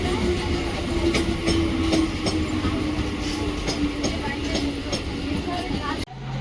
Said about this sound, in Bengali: এই ট্রেনটা যাবে এখন ক্যানিং ডাউন যাবে, ডাউনে যাওয়ার গাড়ি।